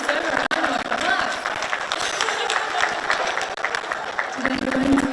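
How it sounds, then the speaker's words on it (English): A seated audience at a Malaysian appreciation gathering for frontline workers gives a round of applause, dense clapping running throughout at moderate level, with a brief voice and a held tone near the end. "deserve a round of applause."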